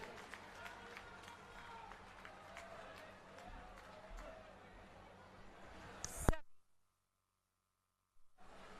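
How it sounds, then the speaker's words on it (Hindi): A standing crowd gives loud, dense applause and chatter for Sunita Kejriwal at a Haryana election rally, the clapping swelling to a sharp burst before cutting to near silence, then a faint return. "जोरदार तालियां खड़े होकर एक बार सुनीता केजरीवाल जी के लिए"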